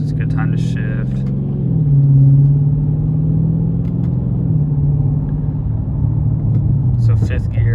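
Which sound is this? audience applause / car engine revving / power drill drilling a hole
car engine revving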